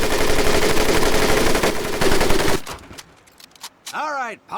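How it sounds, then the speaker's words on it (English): A machine gun firing in Medal of Honor Pacific Assault, a loud, rapid, continuous burst for about two and a half seconds that stops abruptly, followed by scattered clicks and a short electronic sound. "Konačno su Ameri nabavili mašingu"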